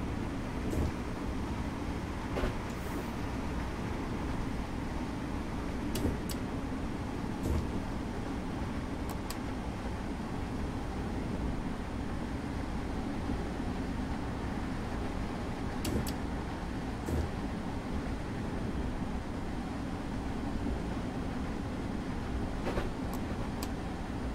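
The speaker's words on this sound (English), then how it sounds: "This is the train we're driving. It's a German S-Bahn unit." German S-Bahn BR423 electric unit running between Munich and Augsburg in Train Simulator 2015; a quiet, steady rolling rumble and hum with occasional faint clicks, no speech.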